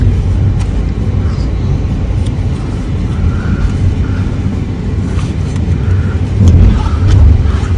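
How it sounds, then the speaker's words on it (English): Steady wash of car traffic on a busy city street, a continuous roar of engines and tyres with occasional louder passing vehicles, no talk over it. "It's quite traffic, no?"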